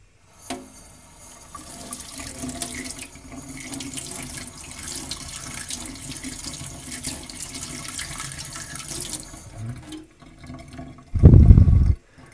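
Cold tap water runs steadily over a freshly boiled potato for about ten seconds, a continuous splashing hiss, followed by a brief louder rush of water near the end.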